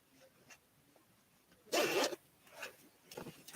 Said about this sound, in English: And then it has kind of like a hidden zipper pocket.